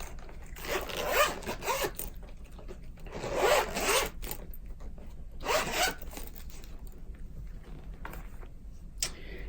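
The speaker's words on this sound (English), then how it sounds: "I'll go ahead and zip this up" Three long zipper pulls, each a bright raspy zip lasting about a second, with quiet pauses between and a faint tick at the end.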